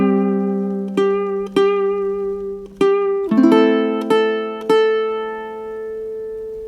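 Solo ʻukulele picks a song's melody without the ostinato, sparser plucked notes ringing out one at a time, close and clean, the last note fading away.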